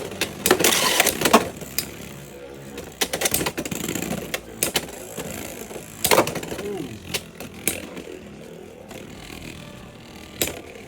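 Sharp metallic clacks and scraping rattles come in irregular bursts as Beyblade-style spinning tops, including Wand Wizard, Hell's Hammer and Wizard Rod, collide in test battles, with quieter whirring between the impacts.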